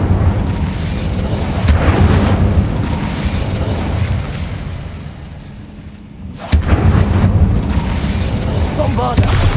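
Incendio fire spell cast in the video game Hogwarts Legacy: a loud, continuous roaring blast with booming bursts that dips briefly and then surges back.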